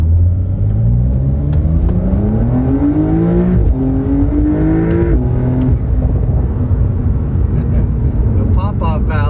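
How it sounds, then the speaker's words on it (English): Porsche 4S with a sport exhaust revving up and then lifting off into overrun, a loud close engine note rising in pitch and falling away with crackles near the end, with a voice talking over it. "No pop-off valve, but I hear that overrun."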